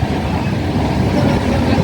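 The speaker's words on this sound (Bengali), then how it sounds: "বারসই থেকে স্পেশাল ট্রেনে চড়ে এনজেপি যাচ্ছি।" A special train rolls along the track heading toward NJP, with a dense, steady rumbling clatter heard from inside the carriage, loud and continuous throughout the short stretch.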